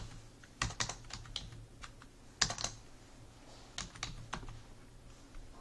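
Someone types a formula into an Excel spreadsheet on a computer keyboard. Irregular, close key clicks and taps come in small clusters with short gaps, and no voice is heard.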